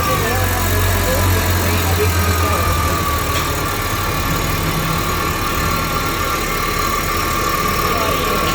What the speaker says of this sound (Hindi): तो माशाल्लाह इंजन बिल्कुल परफेक्ट है, साइलेंट है